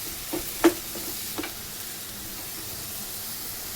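Onions fry in a pan for a Vidarbha-style onion chutney, a soft steady sizzle with a few brief stirring clinks and taps, moderately quiet and without voices.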